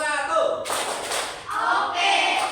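A single loud, close hand clap in a group clapping game, a sharp burst followed by a softer second hit, with a voice heard just before it.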